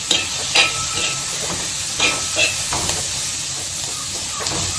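Onions fry in a pan for egg biryani with a constant close hiss and sizzle, marked by occasional light clinks and scrapes of a utensil against the pan.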